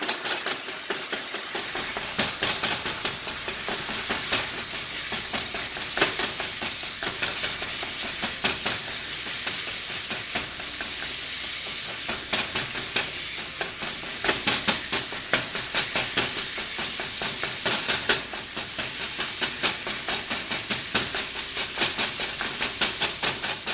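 Ground meat frying and being mashed with a meat masher in a hot pan on medium-high heat for a quick ramen-style meal: steady close sizzle with repeated scraping and pressing strokes throughout, no talk.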